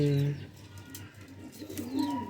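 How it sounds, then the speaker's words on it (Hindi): Pigeons coo steadily from a loft setup, their low, throaty calls close and clear, with occasional soft flutters and faint background murmur. "ये मेरे बड़े दिल के कबूतर है जो यहाँ मैंने छोड़े हुए ना"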